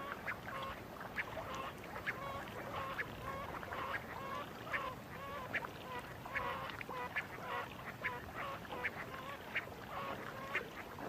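Giant coots calling in a high-altitude Atacama lake setting, a flock of honking, goose-like calls repeating in an irregular rhythm, moderately near and continuous, with no talking.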